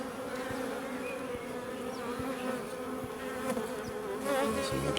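Honeybees buzz densely at an open hive during a search for queens, a close, steady swarm drone with individual bees whining past, continuous and fairly loud throughout.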